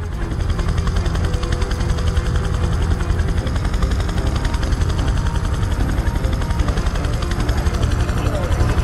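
A helicopter in the video game Prototype 2 coming in to land on a helipad, its rotor thumping loudly and steadily throughout with a dense engine roar and no pause.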